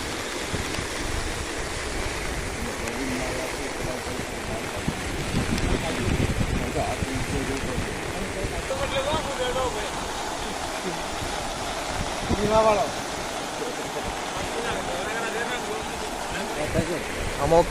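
Floodwater of the Rel river rushes steadily across flooded farmland, a broad continuous roar of moving water with wind, heard up close beneath someone talking.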